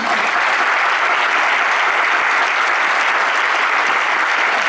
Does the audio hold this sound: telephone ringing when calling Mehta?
no